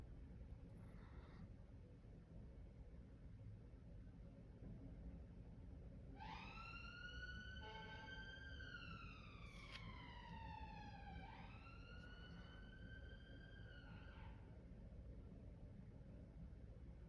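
An ambulance siren in London sweeps up and down in pitch as it passes, rising clearly above steady street noise for several seconds before fading.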